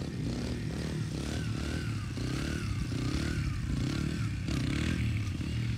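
A four-stroke dirt bike engine revs hard and steadily throughout while the rider pulls a quick wheelie, with close, loud throttle roar and some rattling clatter.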